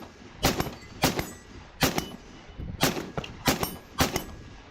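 Rifle shots at a multi-gun match, fired at steel targets from a shooting box, about seven sharp loud reports in uneven pairs with ringing tails, close by and with no talking.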